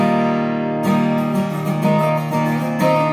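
Electric or acoustic guitar playing the next section of a song alone, a short phrase of ringing chords and picked notes entering after a brief quiet start, with steady strums and no voices.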